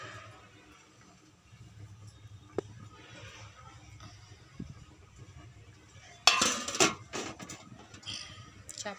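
A lid is set over a pot of red lentils cooking with Malabar spinach. After a quiet stretch of low kitchen noise comes a short metallic clatter and clink, then a brief rattle that settles.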